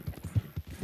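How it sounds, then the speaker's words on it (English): Horse hooves in the Red Dead Redemption 2 video game, a steady clip-clop of about five near, even beats in under a second, with no talk over them. "horse is running out of stamina."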